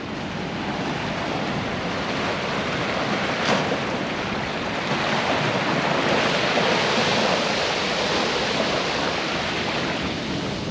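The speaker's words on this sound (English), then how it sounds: "The tide's coming in now." Ocean waves surge into a narrow rocky wave canal on the coast at Bodega Bay, a continuous loud wash of churning surf and spray without any pause.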